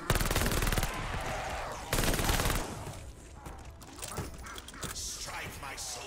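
Rapid automatic gunfire rattles loudly in Call of Duty: Vanguard Zombies, shooting through a wall in two dense bursts, followed by scattered shots and clattering game effects.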